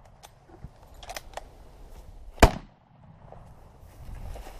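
A single loud gunshot fired at a wounded animal on a trophy hunt in Namibia cracks out sharply mid-clip, standing alone against quiet outdoor background noise with a few faint knocks and rustles around it.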